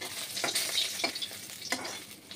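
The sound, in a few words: fish pieces frying in oil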